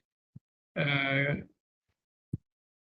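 Dairy cattle in a large cow shed at a farm in Baturaden, Purwokerto, Central Java: one loud drawn-out moo or bleat-like call lasting under a second, bracketed by a couple of short soft thuds, with no talk.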